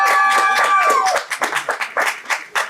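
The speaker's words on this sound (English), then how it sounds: "open this panel here with a warm applause" Audience clapping to welcome a film panel at AfroCannes 2025, starting under a sustained tone and settling into a steady ripple of hands for nearly three seconds.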